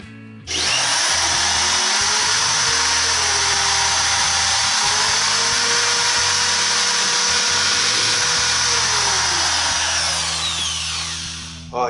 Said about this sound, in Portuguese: Então eu vou apertar bem com alicate aqui. Vou encostar aqui na base, tá? E vou furar.